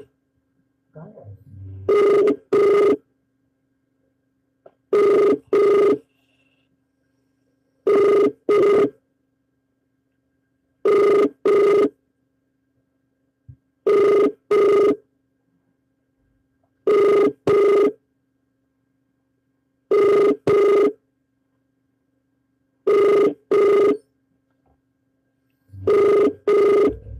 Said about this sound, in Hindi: इनका फोन कॉल रिसीव नहीं हो पाया